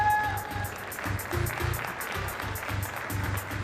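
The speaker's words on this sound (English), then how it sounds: "one more round of applause for our judges" Applause from a tech startup conference audience at Disrupt NY 2017, a steady patter of many hands clapping for the judging panel, with brief voice tones at the very start.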